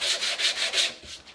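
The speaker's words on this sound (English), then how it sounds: "I'm using my milled block, and what I want to do is make sure for this initial sanding that I'm keeping this as flat as I" A milled sanding block is pushed back and forth along a wooden shotgun stock, about five quick rhythmic rasping strokes, close and alone, the last ones softer.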